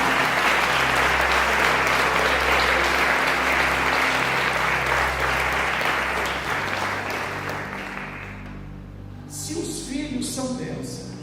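A church congregation claps loudly and steadily for several seconds, the dense applause fading out near the end as voices take over.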